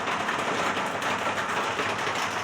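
Steady rain on a Sunday hisses in a continuous, even wash of broad patter, fairly loud and close, with no one speaking.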